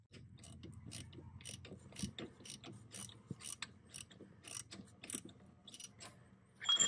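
A ratchet on a metal cap-style filter tool loosens the oil filter of a Lexus IS500 during an oil change. It gives quiet, irregular bursts of sharp clicking pawl ticks, heard close up with no talking.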